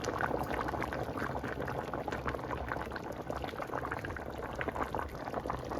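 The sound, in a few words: mustard hilsa curry bubbling as it boils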